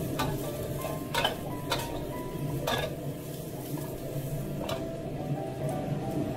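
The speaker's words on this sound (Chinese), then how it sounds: "转大火翻炒" Green beans stir-fried over high heat in a wok make a steady, moderate sizzle, punctuated by several sharp spatula clanks against the metal.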